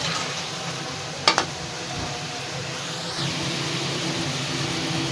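Shredded cabbage lightly sautéed in a pan for creamy macaroni, an even close sizzle running throughout with a couple of sharp utensil knocks just after one second.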